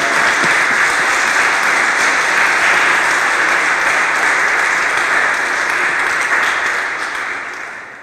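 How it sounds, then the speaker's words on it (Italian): Audience applause at a youth cathedral gathering, a dense, steady wash of many hands clapping for the full stretch before tapering off near the end, loud and continuous with no talk over it. "possiamo fare anche un applauso"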